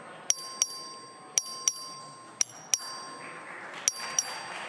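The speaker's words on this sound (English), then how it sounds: "The clerk will ring the bell." Bright, sharp bell strokes in the Texas House chamber, rung by the clerk to call a record vote, coming in quick pairs about four times over a soft room hum, with no speech.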